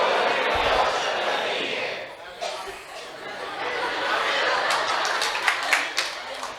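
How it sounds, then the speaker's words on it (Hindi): A congregation claps at a Hindi church sermon, a scattered burst of hand claps in a large room, blended with crowd murmur and a preacher's voice. "ताली क्या बजा रहे हो?"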